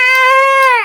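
A child who has just had a nebulizer mask taken off lets out a short, loud, close wail that holds steady and then drops away at the end.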